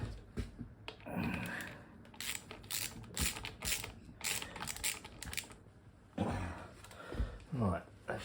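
Ratchet wrench clicks as bolts are tightened on a 50cc mini bike during a home build, with bursts of quick mechanical clicking and metal clatter close by and a voice now and then.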